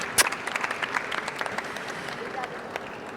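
An audience applauds a volunteer at a travel-industry conference, a burst of moderate clapping with a sharp clap at the start, then scattered claps that taper off over a few seconds while voices carry on underneath.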